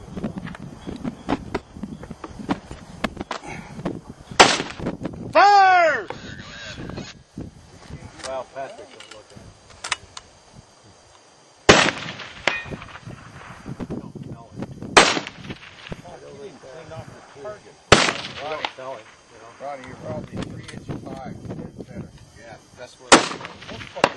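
Rifle shots fired at silhouette chicken targets 200 meters away ring out outdoors as a series of loud, sharp cracks spaced several seconds apart, with quieter shuffling and handling noise between them.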